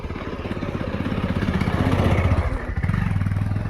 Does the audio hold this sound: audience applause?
no